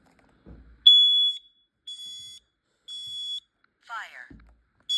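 Smoke alarm under test sounding a series of sharp high-pitched electronic beeps, four evenly spaced tones with silent gaps between them, loud and close, followed by a brief spoken alert from the unit and a soft voice.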